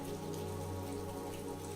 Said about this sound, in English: The sound of raindrops tapping against the window pane provided a soothing